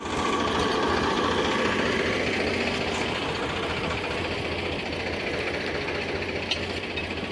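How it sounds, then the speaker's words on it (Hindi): Tractor engine straining steadily to pull a stuck tractor dumper free, a continuous loud droning rumble with mechanical clatter throughout and no talk. "दूसरे ट्रैक्टर का डंपर वहाँ छोड़ के तो दूसरे ट्रैक्टर से हम निकालेंगे।"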